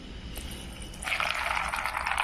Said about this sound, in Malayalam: എന്നിട്ട് നമുക്ക് കുറച്ച് വെള്ളം ഒഴിച്ചു കൊടുക്കാം.